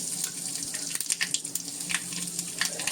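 Mustard seeds and asafoetida crackling in a spoonful of hot oil for a poha tempering, a continuous hissing sizzle with small irregular pops, close and fairly quiet.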